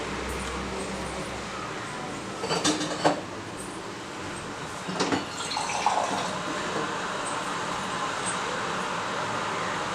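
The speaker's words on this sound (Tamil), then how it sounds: "கொஞ்சம் தண்ணி விட்டு கலந்துக்கிடுவோம்." Water runs steadily into a spice mix for fish curry, a continuous wash of pouring sound with a few brief scraping stirs in the middle, fairly close and without talk.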